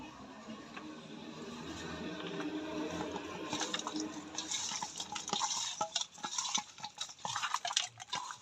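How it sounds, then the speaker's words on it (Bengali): Fish pieces are worked together with salt and turmeric, making wet, irregular squishing and light clinking against a dish; the handling grows louder and choppier in the second half. "এবার মাছটা লবণ আর হলুদ দিয়ে মাখাই নিব।"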